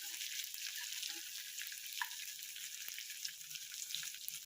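Onion pieces, green chillies and curry leaves fry in hot oil, giving a soft continuous hiss and sizzle with small crackles and a few faint scrapes of stirring, quiet and close, with no talking.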